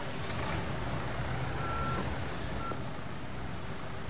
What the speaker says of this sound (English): And then get back in my cement truck.